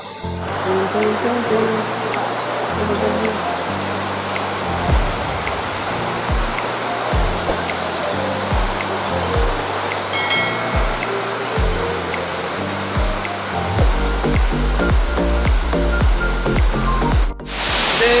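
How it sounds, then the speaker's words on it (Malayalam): Waterfall in Wayanad heard from close by, a loud, constant roaring rush of falling water that fills the whole stretch, with faint low background sounds underneath. "വെള്ളച്ചാട്ടത്തിൻ്റെ ഉള്ളിൽ കേട്ടോ."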